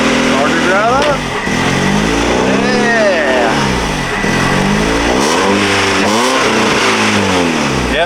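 A Honda CB7 car engine revving up and down repeatedly, loud and close, with a person talking over the rising and falling pitch.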